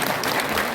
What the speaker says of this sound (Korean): 우리 박사님 박수하겠습니다